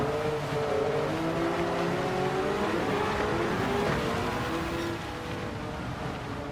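Race cars in a sim racing game at Spa roar through a crowded opening lap, several engines droning and overlapping in a steady, continuous wash of motor noise that eases slightly near the end, with no talking.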